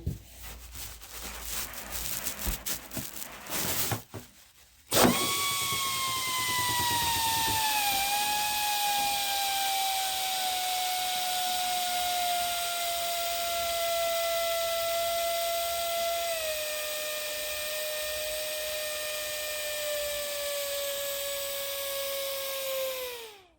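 Air rushes out of a balloon through a smaller nozzle with a loud, continuous whistling hiss. It starts abruptly after a few seconds of handling noise, then slowly drops in pitch over nearly twenty seconds before cutting off.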